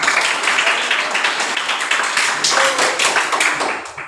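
A room of people applauds a group presentation, brisk overlapping claps holding steady and fairly loud for a few seconds before tapering slightly at the end.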